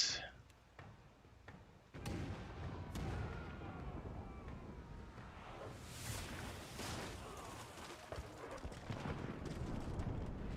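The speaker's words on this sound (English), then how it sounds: "Fire the starboard cannons." Ship cannons fire in a broadside during a naval battle in the game Pillars of Eternity II: Deadfire, several booming shots going off in quick succession amid battle clatter at a fairly low level.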